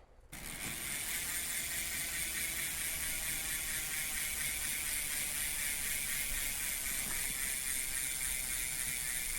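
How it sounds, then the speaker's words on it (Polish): Steady, rapid clicking of a Trek Roscoe 7 mountain bike's freehub ratchet as the wheel spins freely, a continuous fine buzz of clicks at moderate level. "to, że dźwięk bębenka jest cichy"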